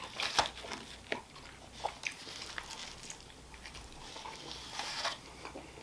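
Someone bites and chews Papa John's stuffed pizza crust, close up and fairly quiet, with a series of soft crunches and clicks at irregular intervals.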